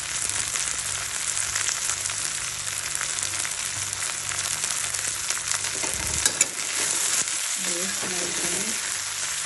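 Onion, garlic, ginger and green chili frying together in a pan for a Nepali onion and tomato pickle, a loud steady sizzle that runs throughout, with a brief stir and a few spoken words near the end.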